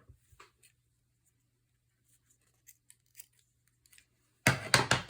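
Scissors snipping binding thread for a junk journal: a few faint clicks and rustles, then three quick close crisp cuts at the end.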